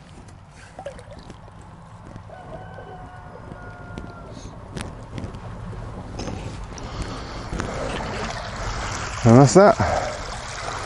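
Dirty duck pond water, washed out of the duck house, drains through a pipe into a flooded rice paddy in a Scottish permaculture system, giving a steady trickling pour under a man's brief speech.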